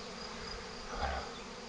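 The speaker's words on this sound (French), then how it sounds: "Le ciel tout plein d'abeilles." A soft, steady buzzing of a honeybee swarm fills the air, faint and continuous, with one slightly louder pass midway.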